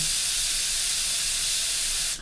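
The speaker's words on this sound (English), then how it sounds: "we will literally test it by spraying the nose." Paint sprays onto the nose of a Tamiya 1/20 RB6 model car, a close, steady airy hiss that holds evenly and then cuts off abruptly.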